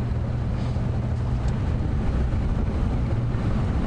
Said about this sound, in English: Lovely quiet engine when it goes.